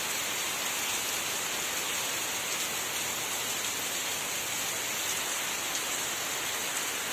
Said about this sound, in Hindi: देखिए कितनी जोरदार बारिश हो रही है।